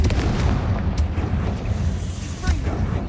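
A Confringo spell going off in a loud, booming burst that rolls on continuously, with sharp cracks in a dense wash of magical combat noise.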